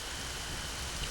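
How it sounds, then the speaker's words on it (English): Steady rain falls in The Legend of Zelda: Majora's Mask, a faint, even hiss of rainfall with no voices over it. "It's raining."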